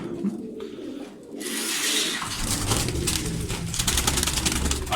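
Pigeons coo softly and repeatedly nearby, low throaty calls over rustling and background noise after a brief quieter start.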